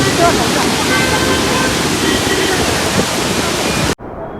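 Water rushing through ten open gates of Srisailam Dam, a loud, continuous roar like a big torrent, then cuts off abruptly near the end, leaving quieter background sound.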